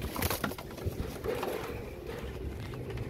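Imam Deen pigeons cooing close by in a steady low rhythm, several soft repeated coos with light rustling and faint background noise, no talking.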